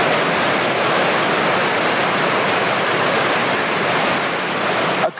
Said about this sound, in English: The surf is way up on the west coast, and you can blame it on El Nino.